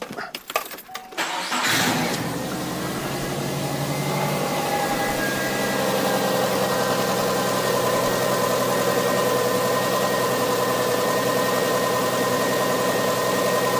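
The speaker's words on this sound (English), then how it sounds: "It's idling really well." A Subaru engine starts with a brief crank, then settles into a steady, smooth idle that runs on continuously with a low hum.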